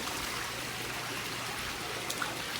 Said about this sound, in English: we have an urn that pours water into the pond